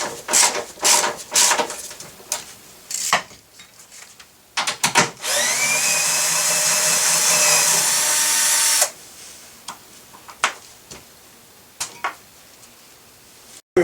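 A power tool works on a 12mm bolt on a 2001 Volvo S60 during a windshield washer reservoir replacement. Scattered clicks and knocks lead into a loud, sustained whir lasting a few seconds, then more sparse tapping and handling sounds.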